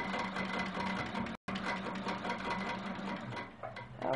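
Sewing machine stitching in the ditch along a quilt block, a continuous rapid needle whir with a brief stop partway, then resuming at an even pace up close.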